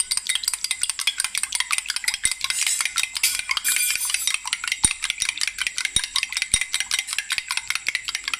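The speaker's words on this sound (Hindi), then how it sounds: "एक का डंडा तोड़ लेते हैं, इसको मैं अच्छी तरह फेंट लूँगी" An egg is whisked briskly in a bowl for shami burgers, a fast, even run of close metallic clinks and taps against the sides with no talk.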